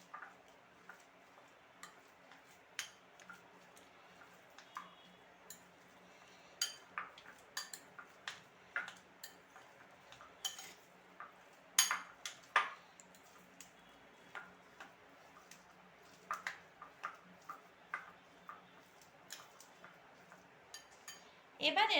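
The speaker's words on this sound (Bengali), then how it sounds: "এবার আমি সবগুলো উপকরণকে ভালোভাবে একসাথে মিশিয়ে নেব।" A spoon clinks lightly against a bowl while chicken kebab ingredients, including chopped onion, are mixed together, giving a steady stream of small ticks and taps over quiet room tone.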